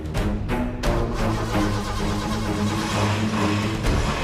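A van engine catches and keeps running, a steady loud mid-pitched drone with a rough revving edge throughout, heard close without talk.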